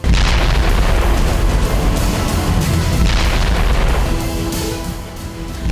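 A deep, booming explosion effect rolls out at full strength and then slowly decays into a rumbling tail, with a second surge of roar partway through, heavy and close with no voices.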